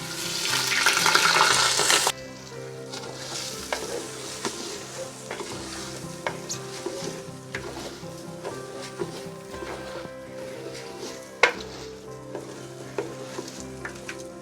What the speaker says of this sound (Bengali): আমার তেলটা গরম হয়ে গেছে, এর মধ্যে আমি এখন দিয়ে দেব চাউল।